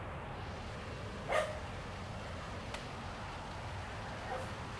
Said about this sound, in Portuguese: O cachorro tá pedindo, ele tá pedindo comida